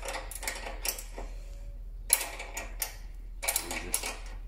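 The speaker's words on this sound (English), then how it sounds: "Winding the spanner and try and hold everything as straight as you can." A spanner is wound to set a rivet nut, likely a ratcheting one, giving bursts of close mechanical clicking and rattling separated by short pauses.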